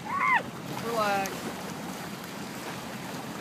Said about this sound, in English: Let these waves pass by.